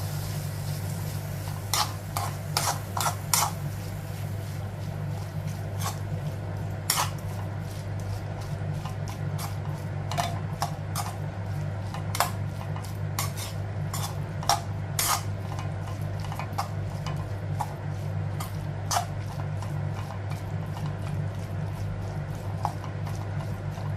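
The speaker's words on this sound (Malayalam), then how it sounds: "നന്നായിട്ട് ഇളക്കി കൊടുക്കുക" Pineapple pickle being stirred in a pan makes sparse, sharp scraping clicks over a steady low hum and soft sizzle, irregular and close.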